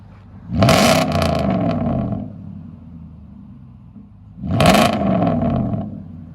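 A Nissan Titan pickup's 5.6-litre V8 with a loud aftermarket exhaust, blipped twice from idle: two deep, roaring revs that rise and settle, each lasting about a second and a half, heard close outside.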